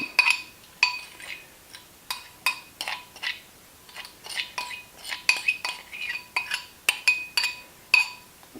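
A spoon scrapes and clinks against a pan as a meatloaf mixture is pressed in for stovetop cooking on an Origo alcohol stove, giving a string of sharp, close metallic taps at an uneven rhythm.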